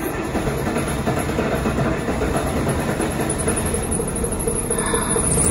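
A combine harvester engine runs rough during a soybean harvest. The machinery drones and rattles loudly and steadily up close, with no talking.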